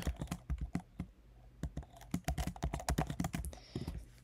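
Rapid, irregular keystrokes on a computer keyboard while logging into a newly created self-hosted virtual machine, with close, crisp clicks in bursts and brief pauses and no speech.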